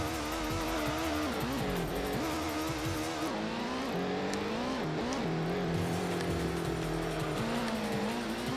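In the PS1 racing game Gran Turismo, a race car engine drones loudly and steadily, its pitch climbing and dropping with shifts and throttle changes during an endurance race.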